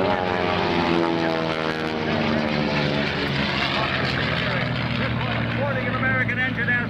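A piston-engined racing aircraft, such as a P-51 with a big radial or V12 engine, drones past during an air race at the Dayton airshow, a loud, steady propeller roar with shifting pitch, and an announcer talks over it.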